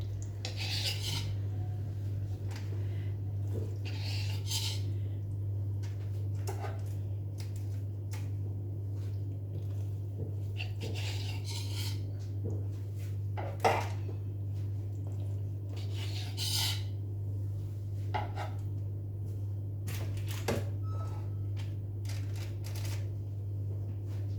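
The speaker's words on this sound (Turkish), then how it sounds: "Şimdi bıçak yardımıyla keserek Tepsime yayıyorum" A knife cutting börek and spreading the pieces in a baking tray, with soft intermittent scraping and light metallic taps over a steady low hum, fairly quiet.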